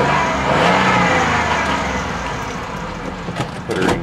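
A 1999 Ford Taurus engine runs close by with a slight hesitation, its mid-pitched hum swelling briefly early on, then settling into a steady idle with a few small uneven bumps near the end.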